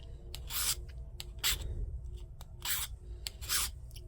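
A hand file rasps across a 3D printed part for an M64 water balloon bomb body, with about five short, close scraping strokes in a steady rhythm and quiet pauses between them. No one speaks.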